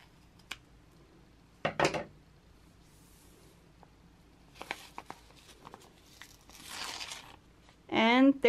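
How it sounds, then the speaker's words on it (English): Fabric scissors snipping through felt and paper in a crafting setup, heard as a few quiet, separate cutting bursts with a crisp crinkle, then a louder rustle near the end, close to the mic. "And then I'll just cut the outer part."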